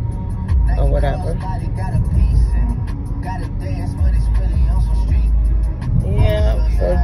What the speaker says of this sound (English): y'all riding along with me on my little ride to get my daughter